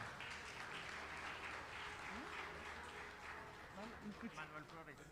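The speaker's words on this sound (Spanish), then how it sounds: "Y un aplauso." An audience applauds a speaker at a World Population Day event, a crowd of clapping hands that swells then thins into a few scattered claps, with voices talking underneath.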